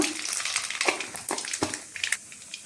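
Nigella seeds (kalonji) dropped into hot oil spit and crackle in uneven bursts, with sharp pops spread over a short, busy sizzle.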